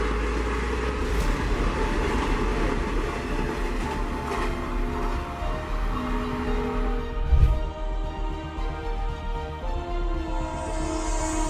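A high-speed train runs along the tracks at full speed, a steady, loud rumble of wheels and carriages lasting throughout with a brief heavier thump midway, no voices.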